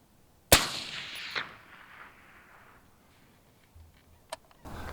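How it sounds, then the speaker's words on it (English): Single sharp rifle shot from an AR-15 firing reloaded long-range ammunition, a loud crack with a decaying echo, followed by faint mechanical clicks and quiet outdoor noise. "So I'll shoot 5 for this one."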